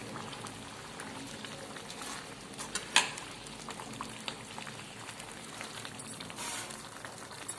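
Village-style Nellore fish curry (chepala pulusu) simmering and stirred in a pan at home, a steady soft bubbling sizzle with faint scraping and one brief clack partway through.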